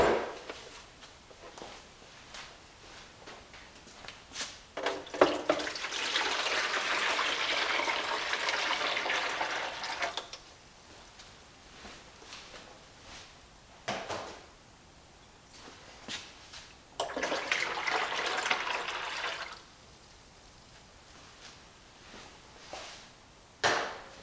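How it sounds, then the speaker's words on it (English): A Drinkwell pet fountain is filled with water in two long gushing bursts, each several seconds long and fairly loud, separated by quieter stretches with clicks and handling noises. No one speaks. "We will fill up the water and see how it can make a difference in volume."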